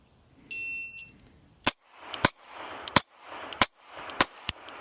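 Six sharp, loud pistol shots from a Sig P365 X Macro at a range, fired in a quick irregular string after a shot timer's electronic beep, each crack trailing a brief echo.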